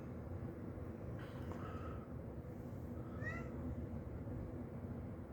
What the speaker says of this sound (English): that's my cat meowing in the background.